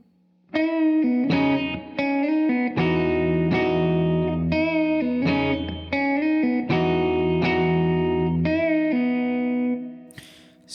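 A distorted electric guitar plays a Midwest emo lick of rapid trilled notes and bent pitches, loud and sustained, ending with a held note that fades.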